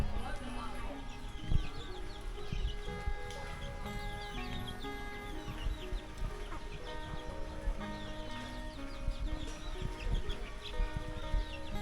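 Chickens cluck and squawk steadily around a rural village chicken coop, a dense flock of overlapping calls up close, with music playing and people talking in the background.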